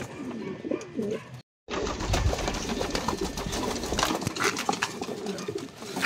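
Caged pigeons feed eagerly, a busy close-up mix of pecking, fluttering and soft cooing, broken by a brief dropout early on before the lively activity resumes and continues.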